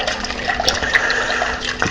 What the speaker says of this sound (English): And I'm going to give that a quick stir.